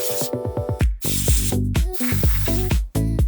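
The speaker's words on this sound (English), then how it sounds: "take it outside and give it a clean with the air duster" Compressed air from an air duster blasts across the fan of an ACEMAGIC TANK03 mini PC. Sharp, loud, close bursts spray against the spinning blades, with pulsing, whirring tones between several short pauses.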